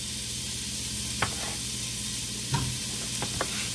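Beef frying in a hot pot for carne en su jugo gives a steady, close sizzle, with a few brief clinks and stirring knocks breaking through it and no one talking.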